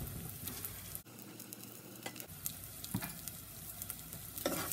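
Refried beans with a whole garlic clove are stirred in a sizzling pan, with steady frying hiss under soft scraping strokes of the spoon, close and continuous.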